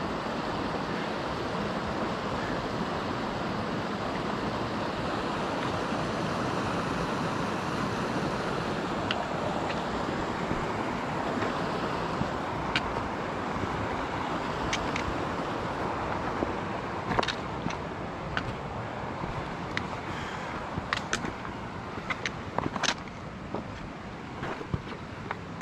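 Krebs Creek flows in the High Uintas Wilderness mountains, a loud, continuous broadband rush of water close by with scattered small clicks and no speech.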